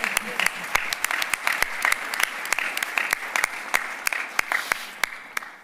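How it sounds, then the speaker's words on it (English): An audience at a county government address claps for local libraries, a steady wash of many hands punctuated by sharp, loud individual claps near the microphone, continuing for several seconds. "you can clap for the libraries"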